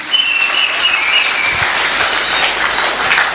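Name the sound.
audience applauding for God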